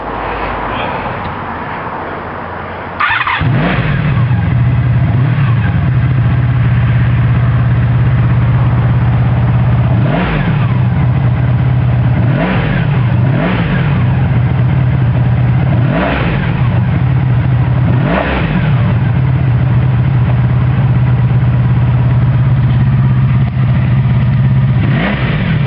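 A 1984 Honda Sabre V45 motorcycle engine starting up close, then idling with a steady low rumble broken by several sharp revs rising and falling.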